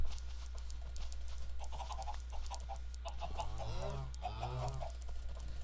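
Chickens in the Minecraft video game, with two short clucking calls standing out over a steady low hum and faint background noise in the second half.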